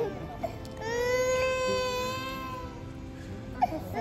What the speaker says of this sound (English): Baby cry, adult complain.